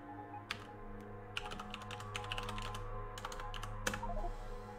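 A computer keyboard being typed on to enter a console command in Factorio, a quick irregular run of close, crisp key clicks over a faint steady hum, with no talk.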